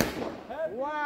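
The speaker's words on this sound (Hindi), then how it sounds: "विस्फोट होते हुआ वहाँ पे विस्फोट होते हुआ" A Diwali firecracker bursts with a sharp bang at the start, then excited voices call out over the fading crackle.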